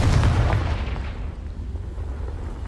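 Confringo fire spell blast in Hogwarts Legacy, a heavy booming explosion at the start that rumbles and fades over the next couple of seconds.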